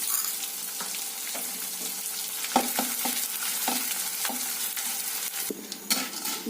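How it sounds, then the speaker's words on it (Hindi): Edible gum (gond) frying in hot ghee, a steady crackling sizzle with repeated scraping stirs of a spoon against the pan, close and continuous with no talk. "तो घी गर्म हो गया है, अब हम गोंद भून लेते हैं।"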